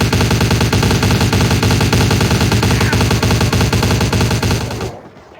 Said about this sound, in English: You are wasting bullets in the air.